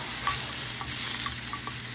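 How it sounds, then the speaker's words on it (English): Two or three small garlic cloves roast in a hot pan for a taco sauce, with a steady close sizzle and frying hiss throughout, broken by a few soft stirring clicks. "I added two or three little garlic cloves, and we're trying to roast these that way"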